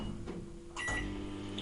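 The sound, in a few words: microwave oven running, heating edible fabric mixture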